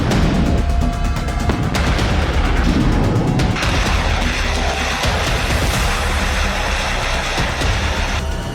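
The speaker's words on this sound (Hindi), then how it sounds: "इसी प्लान के तहत कीव पर धुआंधार मिसाइलें बरस रही हैं।" Missile strikes exploding on Kyiv during the war, heard as continuous loud rumbling blasts and crackling detonations with a harsh, dense roar that swells partway through.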